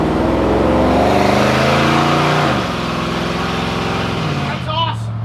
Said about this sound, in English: never mind this milk truck that's coming through